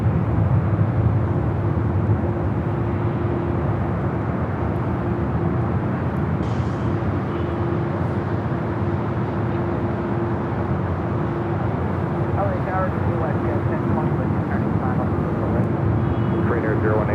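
At Los Angeles airport, a Boeing 747-8 Intercontinental airliner gives off a steady, broad jet roar with a constant whine running through it, while radio voices talk faintly over the top.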